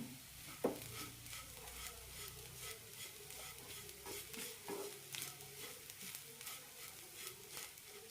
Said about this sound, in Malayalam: ഇനി ഇതിലേക്ക് കുറച്ച് തേങ്ങയും മല്ലിയിലയും കറിവേപ്പിലയും ഇടാം നന്നായി മിക്സ് ചെയ്യാം